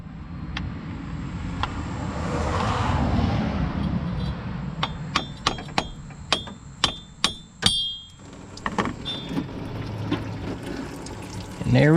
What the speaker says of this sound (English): you're going to see like all the transmission fluid is going to be pouring out